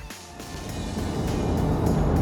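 A classic car driven down a street, its engine note rising and thickening into a steady, loud rumble over a couple of seconds with no talking.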